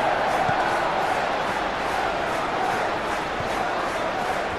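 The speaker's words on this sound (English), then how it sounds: "the crowd are reacting to that now" Steady, dense stadium crowd roar and cheering from a PES 21 football video game match, Aston Villa against Manchester United, filling the whole stretch loud and unbroken with no commentary heard.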